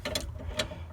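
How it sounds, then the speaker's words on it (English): A lug wrench cranks a car jack to raise the vehicle while a flat tire is being changed. Close, quick ratcheting clicks come in two short bursts, with a low mechanical grind between them. "as you all can see, what I'm doing is I'm now raising the vehicle"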